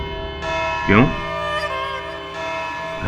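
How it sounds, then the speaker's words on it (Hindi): A courtroom bell rings in a legal drama, sustaining a steady, resonant metallic tone for a few seconds with brief swooshing accents, and a voice is briefly heard. "घंटी बज गई?"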